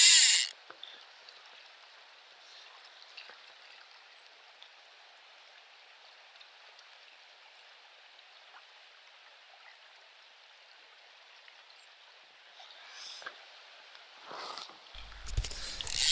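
A new river runs about ten inches above summer level, giving a steady, moderate hiss of rushing water throughout, with a few louder bumps and handling noises near the end.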